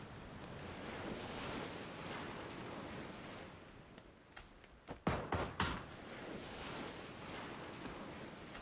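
Water and surf wash steadily in PUBG after a player drops into the water, a soft continuous splashing hiss with a brief cluster of sharper sloshing thumps midway.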